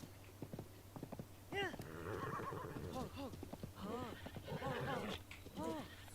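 A horse in the video game The Legend of Zelda: Tears of the Kingdom whinnies and neighs loudly several times in quick succession, with hoof clip-clops and a steady low hum underneath.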